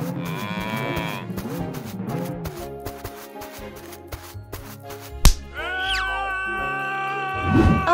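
A cartoon cow, stuck in a tree on a farm, moos in loud, drawn-out, wavering calls amid bouncy music and a sharp sound effect.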